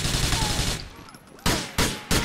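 Gunfire in the video game GTA IV, with a burst of rapid shots at the start followed by three sharp, loud single bangs spaced apart near the end, no talk.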